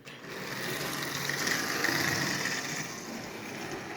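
Small electric motor of a prewar Marx Commodore Vanderbilt toy locomotive, freshly oiled, running with a steady, close whirring buzz that swells slightly and holds.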